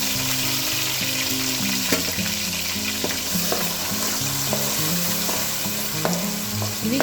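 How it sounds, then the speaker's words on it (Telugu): Onion paste frying in a pan with curry leaves and green chillies for a fish curry, a steady close sizzle with repeated stirring scrapes throughout, no talk. "ఇది గోల్డెన్ కలర్లో వచ్చేంత వరకు వేయించుకోవాలి."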